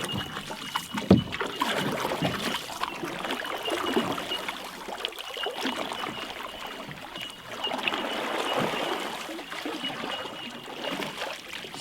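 Soft watery swishes of a canoe paddle making forward strokes through water, a few slow strokes with gentle splashing and faint background trickle.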